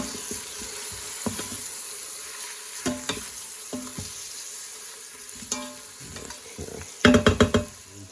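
A spoon stirs seasonings and spices, including onion powder, around a pot of sizzling food, giving scattered scraping clacks over a faint steady fry, with a quick burst of rapid scrapes near the end.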